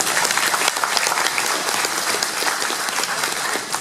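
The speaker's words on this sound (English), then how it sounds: "give your county board and Tom Ortman a big round of applause" A crowd at a Wilson County Farm Bureau convention in Floresville, Texas, applauds the county board: dense, sustained clapping filling the room for the whole stretch, close and even.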